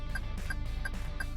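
Rapid, regular chirping turn signal beeps in a Toyota Veloz repeat about three times a second over a steady low cabin hum.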